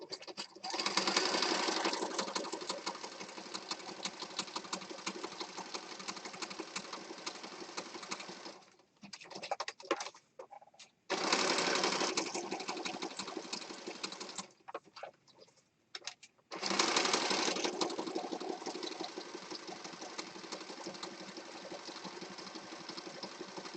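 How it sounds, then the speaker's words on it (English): A sewing machine stitches around a paper rectangle for a mixed-media card, running in three long, loud, rapid mechanical bursts separated by brief pauses and small handling noises. "I'm just going to stitch around this rectangle."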